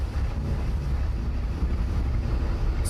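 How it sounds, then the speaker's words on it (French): U-boat submarine engines rumble to life at the surface, a dense, steady low drone with wind-like hiss and no talking. "Les moteurs reprennent vie."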